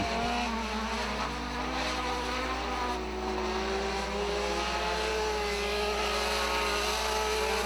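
Front-wheel-drive race cars roar around Hattiesburg Speedway, a loud, steady engine drone with a droning pitch that rises and falls as the pack runs its laps, no voices heard.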